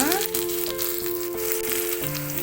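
Ingredients frying in a pan for drumstick (munakkay) curry, browning in hot oil with a steady sizzle and crackle, close and continuous, with no talk.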